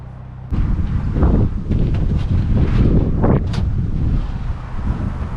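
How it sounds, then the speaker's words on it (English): Strong outdoor wind in Alaska buffets the microphone in a loud, continuous low roar with gusty surges. "it's so windy. It's blowing the camera all around."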